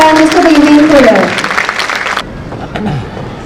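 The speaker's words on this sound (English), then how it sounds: "A huge round of applause for our chairman, sir, Mr. Deven Kollar" At a school annual day, the audience gives a round of applause for chairman Deven Kollar, dense clapping that fills the first two seconds, then drops away to quieter scattered claps while a voice speaks.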